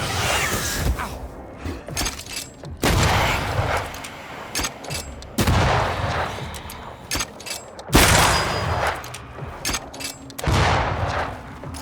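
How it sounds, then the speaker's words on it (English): A corpse fires a gun in the action game Banishers: Ghosts of New Eden, with sharp, loud shots and booming impacts coming in separate bursts that are split by short lulls. There is no talking. "That corpse is gonna shoot."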